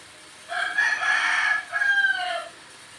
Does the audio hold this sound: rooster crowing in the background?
yes